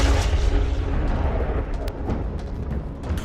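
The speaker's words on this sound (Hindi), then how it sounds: "गिरती मिसाइल" Missiles strike during the battle for Kyiv, bringing loud booming explosions over a dense, rumbling wartime din with scattered sharp cracks.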